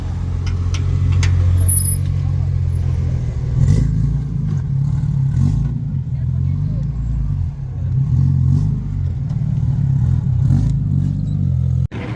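Modified cars idle and roll past at a Liberty Walk car show in Indonesia, giving a deep, steady engine rumble with a swell of revving partway through, while people talk nearby.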